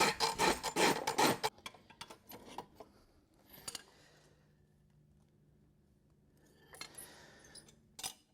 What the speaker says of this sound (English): I also need to rasp a little on this toe.